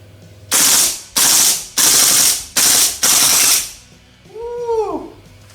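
Golden Eagle gas blowback M4 airsoft rifle firing five loud, close bursts in a steady rhythm, each a sharp rapid rattle of shots, followed by a whooshing, warbling tail.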